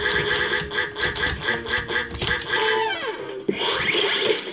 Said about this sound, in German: Warum bin ich jetzt eine Ente?